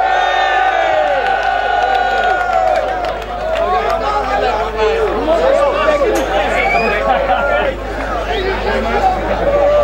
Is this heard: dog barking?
no